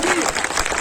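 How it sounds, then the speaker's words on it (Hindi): Short burst of crowd applause at a union protest rally outside the MCD Civic Centre in Delhi, dense clapping heard briefly with voices mixed in. "ताली बजाओ"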